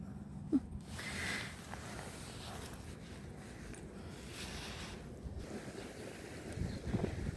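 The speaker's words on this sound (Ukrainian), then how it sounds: "Оце вітер піднявся" Wind rushes and buffets steadily, with low rumbling gusts swelling and easing over several seconds, close and fairly constant.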